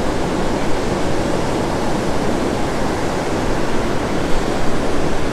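Ocean waves breaking on the beach at Mustang Island State Park on the Gulf Coast, a loud, continuous roar of surf with no voices.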